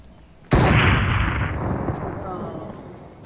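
A single loud gunshot in a video game, a sharp blast followed by a long rolling echo that trails off over a few seconds, with no talk over it.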